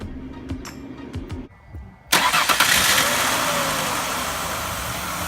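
A 2001-2006 Ford Escape 3.0L V6 engine cranks after a few soft clicks and catches after a spark plug change, settling into a steady, loud running rumble close by.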